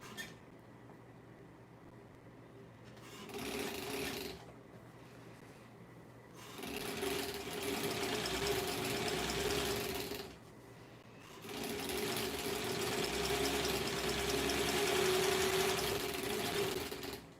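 Sewing machine stitching a back tack on a hedgehog plush near the lining, running in short bursts with pauses between, a steady close mechanical whir that stops and restarts.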